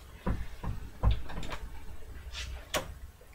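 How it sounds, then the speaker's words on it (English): A door in a home bumps and rattles as it is opened or closed, several close thuds and knocks spread over a few seconds with no talk. "Are you gonna shut the door?"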